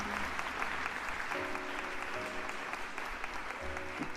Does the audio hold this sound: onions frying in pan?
no